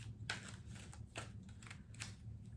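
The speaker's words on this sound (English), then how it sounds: "Let's shuffle." A deck of playing cards shuffled close by, giving a few quick riffling bursts and soft card flutters, faint and brief, with no talking over it.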